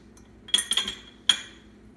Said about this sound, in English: After your peppers have been ground up, put them into a glass container.